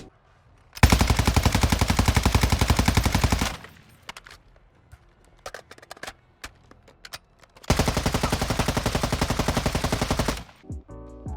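A battle rifle fires in Call of Duty: Modern Warfare II in two long, loud full-auto bursts of rapid, steady shots, separated by a few seconds of quieter in-game clatter.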